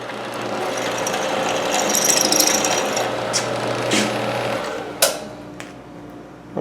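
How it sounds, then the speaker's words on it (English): A drill boring a 3/8 inch hole into an aluminum block on a homemade wood lathe setup, giving a steady, fairly loud mechanical whir with a few sharp clicks and knocks toward the end, and no talking. "Now I'm going to drill a 3/8 hole there."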